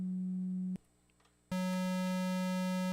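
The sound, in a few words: synthesizer sine wave tone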